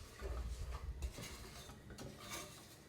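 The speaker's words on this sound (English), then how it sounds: "so I'm going to stir from the outside into the middle" Caramel being stirred in a pan as the sugar starts melting at the edges, with soft scraping and clinking of a utensil against the pan, steady and close, with low rumbling through the first second and no talk.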